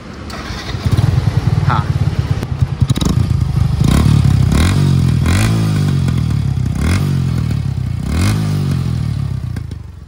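A Yamaha FZ160 motorcycle idling in neutral through a modified stock exhaust, revved several times in rhythmic blips with rising and falling engine pitch and some clattery pops, loud and close, while someone talks over it.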